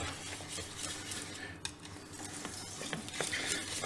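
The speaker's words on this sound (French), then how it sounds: "on remue tout le temps" A spoon scrapes and stirs a cheese and bacon lardon sauce in a pan, quiet clinks and rubbing strokes against the metal with a faint low sizzle beneath, continuous and close.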